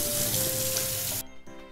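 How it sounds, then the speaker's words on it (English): Tap water runs steadily over unagi eel for a rinse, a bright rushing hiss at close range that cuts off abruptly after about a second, leaving only quiet room sound. "So just really quickly rinse this with water."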